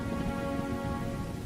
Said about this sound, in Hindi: यह ठंडी में जो लगातार बारिश हो रही है